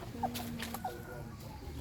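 Soft, scattered clucks from chickens at close range, a few brief calls over a steady low background hum.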